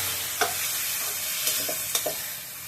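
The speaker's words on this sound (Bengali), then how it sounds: "একটু নেড়ে ছেড়ে মিশিয়ে দেবো" Vegetables and chicken sizzle steadily in a hot pan while a spatula stirs them, a few distinct scraping taps cutting through the continuous frying hiss, close and without talk.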